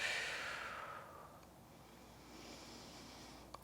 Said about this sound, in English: Inhale here and exhale, let it out.